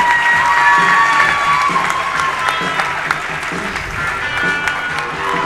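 Audience applause and cheering at a grappling event after the first match ends, a steady loud wash of clapping and crowd noise lasting throughout.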